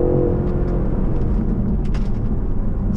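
A V8 BMW M550i with all-wheel drive accelerates hard, a steady loud engine roar with road and wind noise heard from inside the cabin and no talking.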